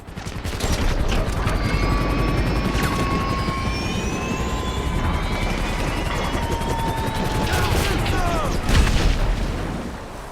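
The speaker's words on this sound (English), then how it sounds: "we'll get hit up by an enemy helicopter, so keep an eye out for it" Enemy helicopter attack with gunfire in the video game GTA Online, a steady loud rotor and engine roar holding for the whole stretch with sharp bursts of shots and booms over it.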